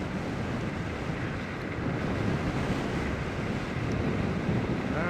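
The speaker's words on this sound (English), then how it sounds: "I am definitely going against the wind." Strong, steady wind roar buffets the microphone while a Varla Eagle One e-scooter, rated to 40 mph, rides fast down a wide open street against the wind, continuous and loud with no talking.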